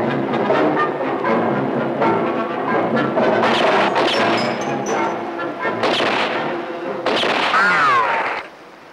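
Sharp gunshot blasts ring out in a 1966 Iranian feature film at a shooting scene, several loud bursts spread across a busy soundtrack, with the clearest crack near the end.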